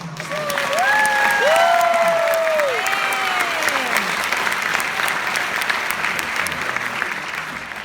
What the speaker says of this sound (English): So if we can just have one more round of applause for everyone else